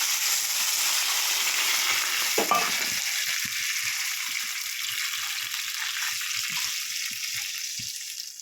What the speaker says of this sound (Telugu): ఇప్పుడు వాటర్ వేసేస్తున్నాం.